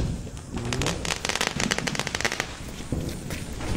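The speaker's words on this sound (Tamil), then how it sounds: "நம்ம லட்சுமி வெடி சோதனை பண்ணிடுவோம்" Lakshmi vedi firecrackers go off during Diwali as a loud, rapid run of sharp cracks and pops, close by, trailing into scattered bursts.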